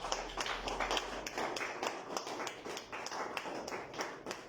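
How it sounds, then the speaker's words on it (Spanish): Steady rhythmic clapping from a small group at a church service, even beats continuing throughout at moderate volume. "Dale un fuerte aplauso"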